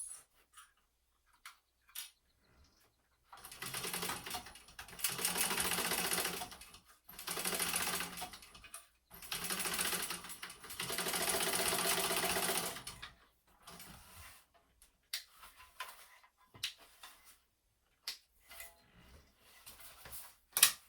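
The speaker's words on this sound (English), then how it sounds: "now I'm going to sew my corners to box my corners" A sewing machine stitches the boxed corners of a fabric clutch in several separate rapid runs, each lasting a second or two, with quiet gaps and small handling clicks between them.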